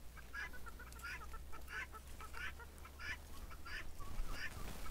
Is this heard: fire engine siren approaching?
no